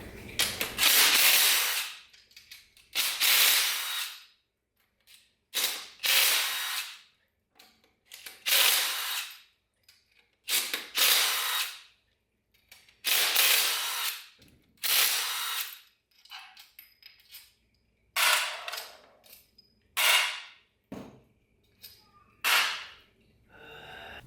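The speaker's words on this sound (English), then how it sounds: "I'm going to zap these pump bolts out of here." A power tool zips pump bolts out of a 4L80E automatic transmission, giving a dozen or so short, loud buzzing bursts in an uneven rhythm with brief silent gaps between them.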